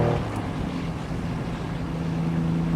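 A 1972 Ferrari 246 GT Dino coupe cruising in fourth gear on winding back roads, its engine a steady, loud drone with a constant low hum and rushing wind noise throughout, no talking.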